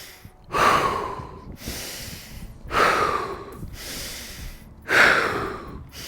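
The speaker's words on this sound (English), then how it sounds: "Holding here, and then start bellows breathing in and out." Forceful bellows breathing from a yoga practice outdoors near the Golden Gate Bridge: three loud, sharp nasal breath bursts spaced about two seconds apart, each a rushing snort of air fading into a softer exhale, with no talking.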